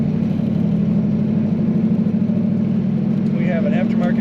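A 1934 Ford Model 40 coupe cruises at highway speed, its engine a steady low drone with constant road noise, and a voice talks over it.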